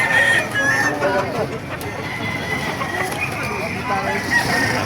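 Roosters crow repeatedly at a chicken market in Baliuag, Bulacan, amid a busy, noisy background with overlapping chatter and clucking fowl, the calls carrying from a short distance.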